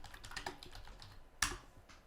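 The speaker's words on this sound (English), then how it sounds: "I'm going to type in men's running shoe." Soft, quick keystrokes on a computer keyboard while typing a Google search, faint and close, with one sharper louder key strike near the end.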